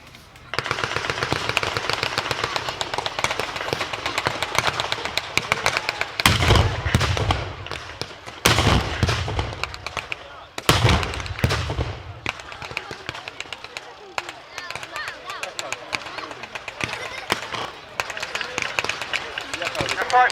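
Gunfire from an American .30 caliber machine gun beside a half-track at a historical battle reenactment, with rapid bursts and loud heavy blasts over ongoing crowd and battlefield noise, voices audible throughout.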